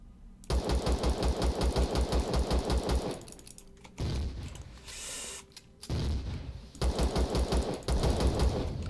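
Rapid automatic gunfire in the space survival game Empyrion Galactic Survival, loud and close, in two sustained bursts of evenly spaced shots separated by a stretch of rumbling, explosive-sounding noise.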